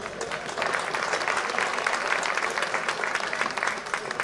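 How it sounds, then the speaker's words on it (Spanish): A hall audience bursts into sustained, dense applause after a reenactment bout of falcata and spear against caetra and scutum shields, clapping steady and close throughout. "por favor, un aplauso para Cristina"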